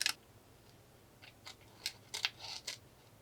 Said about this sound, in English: cutting in detail around the edge with my scissors